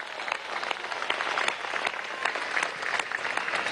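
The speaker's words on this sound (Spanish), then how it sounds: "Un aplauso a nuestros artistas, a nuestros cantantes." A crowd at a large political rally against a proposed law in Venezuela applauds its artists and singers, a dense, steady wash of clapping with scattered sharper claps and a few cheers, loud and continuous throughout.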